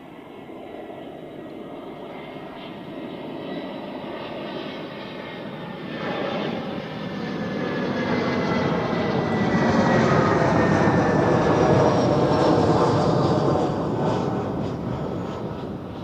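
An airliner comes in to land on runway 14 at Zurich Airport, its engine roar steadily swelling as it approaches and passes close by, then slowly fading.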